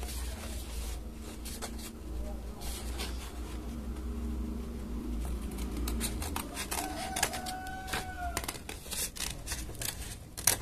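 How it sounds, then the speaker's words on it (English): Scissors snip through paper mask pieces in short, quiet, irregular cuts, close up in a quiet room, with faint rustling of the paper between snips. "let me cut the layout real quick and I'll see when it's done"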